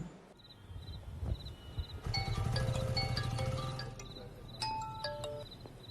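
A bright, tonal electronic ringtone chimes in repeating melodic bursts, fairly quiet, with some shuffling and clatter underneath.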